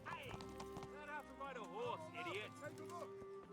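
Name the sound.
horse hooves clip-clopping in a video game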